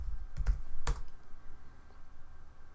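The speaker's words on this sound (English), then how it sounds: "I'll just type something that I already have." Someone taps a computer keyboard in a few sharp, close clicks, with a couple of distinct keystrokes up front and quieter ones after.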